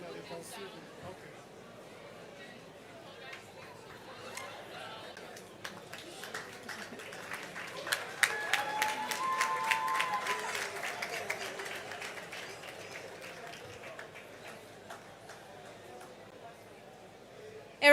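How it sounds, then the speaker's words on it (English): An audience claps at a youth debate grand final, applause rising from scattered claps to a fuller round and then fading, with chatter and talk underneath. "A round of applause, please."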